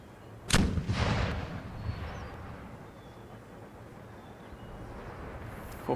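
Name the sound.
cannon artillery fire in the video game Empire: Total War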